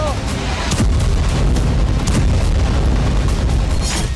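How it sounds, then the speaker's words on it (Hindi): Israeli airstrikes on Houthi targets in Yemen produce a loud, continuous barrage of heavy booms and blasts, rapid overlapping thuds and cracks filling the whole stretch, with a voice speaking over them. "इजराइल के विध्वंसक हवाई हमलों में हूती के ठिकाने, एयरपोर्ट, पोर्ट, पावर स्टेशन और पावर प्लांट तबाह हो गए"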